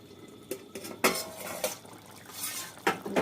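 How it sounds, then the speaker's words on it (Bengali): A metal lid clatters onto a pan of squirrelfish green curry after mustard oil goes in, with several sharp clinks and knocks of metal on metal, close and fairly loud, and no talk. "আবার আমি 2 মিনিটের মতো ঢাকা দিয়ে দেবো"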